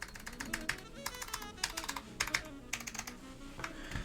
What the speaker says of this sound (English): clicky Alps sound way better in polymer cases